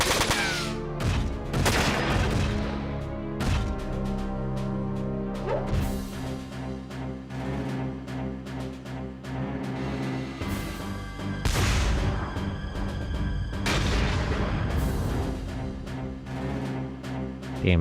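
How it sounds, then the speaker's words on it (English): Continuous game combat from Front Mission 4, a mech firing grenades amid a dense barrage of explosions and gunfire, loud and sustained with repeated booming impacts over a steady musical bed. "Damn, it's actually really good at firing those grenades."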